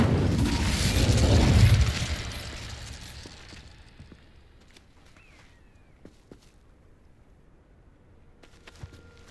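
A fire spell cast in the Hogwarts Legacy video game erupts in a loud, dense burst that swells for about two seconds and then fades into a quiet backdrop with faint scattered clicks and ticks.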